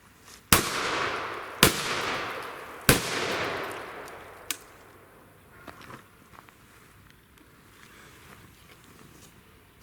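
Three sharp bangs from old sulfur firecrackers go off about a second apart, each with a crackling decay, followed by a couple of fainter pops and quiet background rustle.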